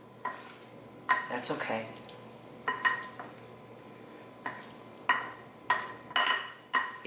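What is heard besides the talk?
mixing a Greek salad with feta and dressing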